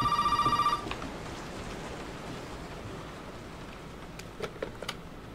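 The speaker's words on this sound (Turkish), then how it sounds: "Telefon çalıyor." A telephone in the video game Resident Evil 7 rings once with a short electronic trill, then cuts off, leaving a steady hiss like rain with a few faint clicks.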